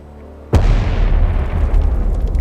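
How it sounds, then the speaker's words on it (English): A hydrogen explosion hits nuclear Reactor 3 with a sudden loud blast, then a long deep rumbling boom that rolls on and slowly fades. "Reactor 3 is rocked by a hydrogen explosion similar to that in Unit 1"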